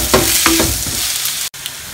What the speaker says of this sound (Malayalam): സവാള ഒന്ന് വാടി വരുന്ന വരെ നമുക്ക് ഇളക്കി കൊടുക്കാം